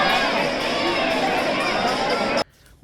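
Crowd of pilgrims waiting at the Barsana Radha temple gate, a loud, dense murmur of many voices with children shouting, cutting off abruptly near the end.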